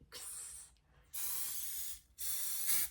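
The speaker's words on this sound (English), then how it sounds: "I've got my hairspray. I'm just going to spray the outside of the braid." Hairspray sprayed from a can onto the outside of a braid, three short close hissing bursts with brief pauses between them.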